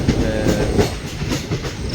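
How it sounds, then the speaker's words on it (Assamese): A passenger train on the Guwahati to Silchar line runs through hill country. It gives a loud, close, continuous rumble with rhythmic clickety-clack from the wheels on the rails. "এনেকৈ পাহাৰৰ মাজে মাজে ট্ৰেইনটো গৈ আছে"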